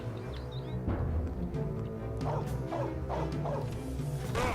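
Dogs bark repeatedly in Mafia: The City of Lost Heaven, several sharp yaps and woofs scattered over a steady low game backdrop, fairly close and moderately loud.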